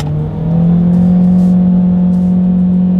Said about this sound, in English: a lot of engine noise when I hit the gas there